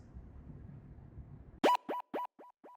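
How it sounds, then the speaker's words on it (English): A short bloop transition effect nicknamed Bloopy Ream, five quick pitched blips in a row, the later ones softer, following a low murky rumble of backing sound. "It's just a little bloop that plays throughout the song during transitions"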